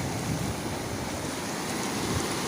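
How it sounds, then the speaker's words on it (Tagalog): Ocean waves surge and wash steadily with a constant broadband roar, a couple of swells rising and falling, mixed with some wind noise. "Ito ng mga alon oh."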